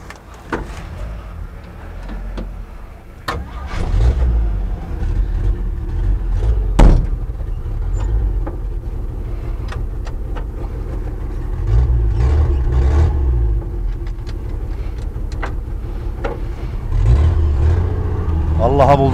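A 1960 Chevrolet engine catches and runs, its low rumble swelling and easing with revs at close range, with a brief click near the start and voices talking over it.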